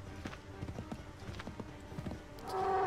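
Horse hooves clip-clopping in the Assassin's Creed 3 video game, a steady run of close, distinct hoof hits that grows louder and denser toward the end.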